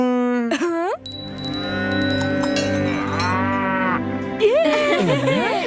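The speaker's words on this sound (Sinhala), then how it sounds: "ඔන්න අද ඉඳන් නන්දනිත් ක්‍රිෂ්ණාගේ ගවරංචුවේ සමාජිකයෙක්." A cartoon cow moos in long, drawn-out calls, loud and close, with bell-like jingles and light music in the background.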